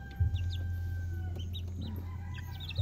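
Young Japanese Shamo and Texas chickens, about a month old, cluck and chirp repeatedly at close range over a steady low hum, with short bursts scattered throughout.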